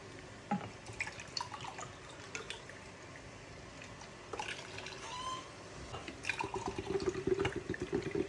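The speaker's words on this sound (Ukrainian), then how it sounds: "Маринад з кетчупом даємо закипіти. Все. Додаємо оцет. П'ять стаканів." Vinegar is poured into a boiling ketchup marinade for pickling cucumbers, making a soft trickle with scattered drips and light splashes. It is faint and close, with a busier liquid patter toward the end.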